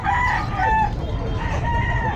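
A rooster crows loudly and close by at a pet market in Baliuag, its long drawn-out call repeating over a noisy background, with no voices.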